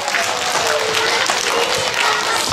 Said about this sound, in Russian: Поблагодарить еще раз аплодисментами ваших педагогов, которые помогли подготовиться чтецам.